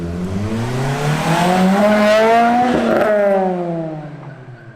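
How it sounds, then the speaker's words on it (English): An Acura RSX engine with a new exhaust revs up hard and loud, rising in pitch to a raspy peak, then drops off as the throttle eases, close by. "So I finally put in my exhaust."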